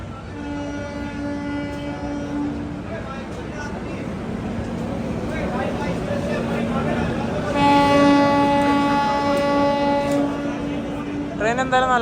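Mangaluru Vivek Express, train 22851, pulls into a station platform, its horn sounding in sustained harmonic blasts over steady rail rumble, with a second louder horn burst near the end and crowd chatter throughout.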